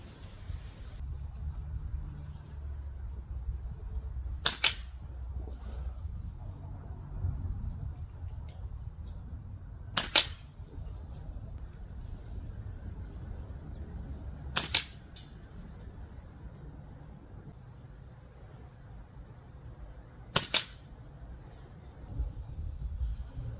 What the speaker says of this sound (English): I'm going to shoot some clay and just see how this thing works